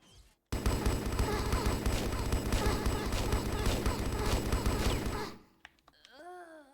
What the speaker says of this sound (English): My bullets are doing nothing.